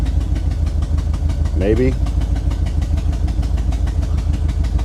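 A Chevrolet square body C-10 pickup with a major exhaust header gasket leak idles steadily and close by, a rough, evenly pulsing rumble that continues without pause while someone speaks briefly over it.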